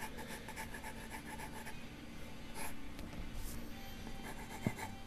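A pencil scratches across paper while a cube is drawn, with quick repeated strokes at first, then longer rubbing lines, close and fairly quiet, no talking.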